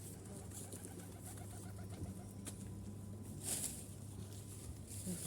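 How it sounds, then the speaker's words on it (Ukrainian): Pigeons cooing in a residential courtyard where laundry hangs to dry, a low steady coo running through the whole stretch under light outdoor background noise. "Голуби чекають, вже не можуть дочекатися."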